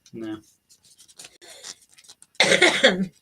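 A short cough near the start, then quiet scratchy rustling and a burst of rough, raspy throat noise near the end.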